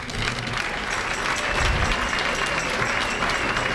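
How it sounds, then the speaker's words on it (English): A church-hall crowd applauds the chaplain of Church of the Advocate at a MOVE bombing anniversary gathering, with steady dense clapping throughout and a faint murmur of voices underneath. "Let's give her a round of applause."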